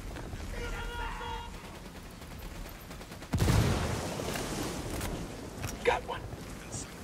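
Gunfire in Ghost Recon Wildlands, a sudden burst of loud shooting midway after a quieter stretch, continuing as scattered shots and echoes, with people talking at moments.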